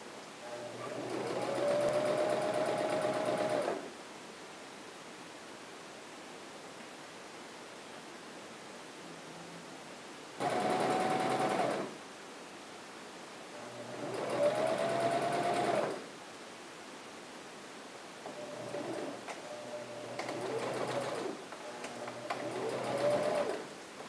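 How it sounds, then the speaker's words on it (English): Sewing machine stitching t-shirt fabric for dog pajamas, a steady whirring hum in several bursts of a few seconds each, separated by quiet pauses, near and moderately loud. "To get started, just slightly pull as you sew."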